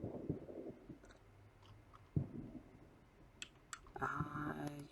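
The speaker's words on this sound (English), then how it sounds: "So left click on your mouse" Computer mouse left-clicks sound as a few faint, sharp, isolated clicks, quiet and close, amid low background rustle with no speech.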